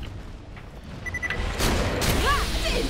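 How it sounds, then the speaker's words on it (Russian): In Borderlands: The Pre-Sequel, a loud, broad burst erupts partway through and rumbles on, followed by another blast and some whooshing, pitch-sliding tones, all over steady background noise. "Оно еще и взрывается."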